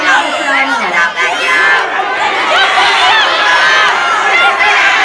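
A crowd at a school Make-A-Wish event chatters and calls out steadily throughout, a dense, loud babble of many voices with no clear pauses.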